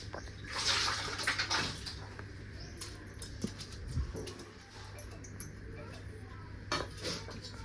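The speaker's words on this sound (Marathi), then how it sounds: "मी डाळ पण धुवून ह्यात टाकून घेतली" Close-up water sloshing and swishing with irregular patters and small clinks as lentils are rinsed by hand in a bowl, with no talking.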